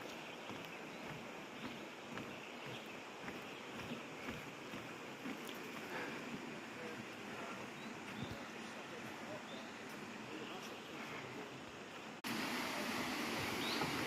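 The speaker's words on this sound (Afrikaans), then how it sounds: "En nou lang stap begin hoor ons die water van die waterval" Waterfall water on the Half Collared Kingfisher Trail, a steady broad rush heard from a distance along a rocky path, with people talking over it. The roar grows louder and closer near the end.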